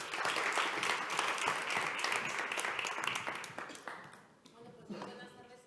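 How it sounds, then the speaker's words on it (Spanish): At a conference for National Atopic Dermatitis Day, the audience greets a doctor with fairly quiet applause that runs steadily, then thins and fades toward the end, with brief voices underneath. "Un aplauso enorme para la doctora Almudena Nuño"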